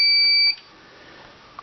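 A fire alarm panel sounding its alarm, a single steady electronic beep tone held for about half a second before cutting off, leaving quiet room hum and a faint click.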